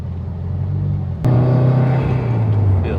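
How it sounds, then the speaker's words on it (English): Turbocharged Subaru WRX engine revs climbing as the car accelerates onto a freeway on-ramp, a steady low drone that jumps in pitch and loudness after a quick shift, then holds a strong, rising note. "Feel that revs build up"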